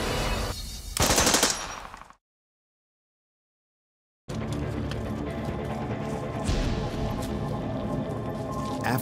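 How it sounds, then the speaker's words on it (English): Sustained machine gun fire from a WWII D-Day battle scene, loud and dense, breaking off into a stretch of silence before a long continuous burst resumes and runs to the end. "make the machine gun ready to fire"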